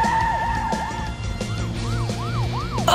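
A cartoon police car siren wails in repeated rising and falling sweeps over a busy backdrop of engine and motion noise. It sounds close and loud, with a sharp burst at the very end.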